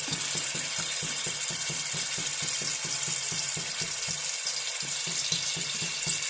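Ginger and garlic fry in coconut oil in a small home kitchen, a constant bright sizzling hiss layered with quick, regular rhythmic ticking pulses close by, with no talking.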